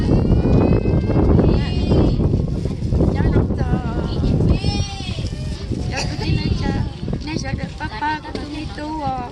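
Goats bleating repeatedly at close range, several wavering cries overlapping with people talking and shuffling movement around the animals.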